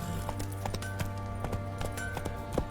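Roach the horse gallops in The Witcher 3 with a steady rhythm of clip-clopping hoofbeats, close and fairly loud over a constant low hum.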